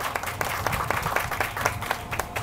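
Audience clapping at the opening ceremony for a bus shelter, a scattered round of hand claps from a modest crowd, moderately close and fairly even in pace.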